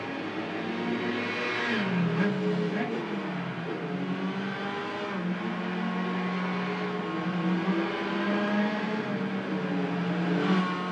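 A lightweight UK race car in Gran Turismo 5 on the Côte d'Azur Monaco street circuit, its engine droning and revving up and down steadily throughout with shifting pitch, loud and continuous with no talk.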